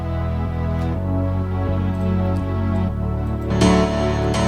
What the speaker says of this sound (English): along with this electronic bass from Nexus.